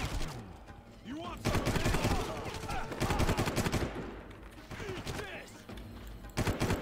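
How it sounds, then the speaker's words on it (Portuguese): Rapid bursts of gunfire from an old shooter video game crackle in quick succession, with brief pauses between volleys, loud and close over the game's ambient sound. "Os tiros dos caras varam a parede"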